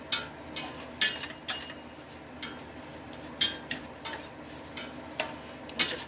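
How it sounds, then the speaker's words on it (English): Cooked meat is chopped up with a utensil in a greasy pan, a string of sharp scraping clacks at an irregular pace over a faint sizzle, close by. "we're going to chop all this up"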